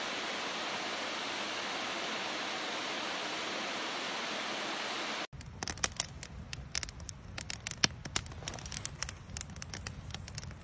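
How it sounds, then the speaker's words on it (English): Steady, full rushing roar of a small artificial waterfall over a dam in Tuscarora State Forest, Pennsylvania, for about five seconds, then it cuts abruptly to a quieter scene with scattered crackles and ticks. "Beautiful little artificial waterfall here."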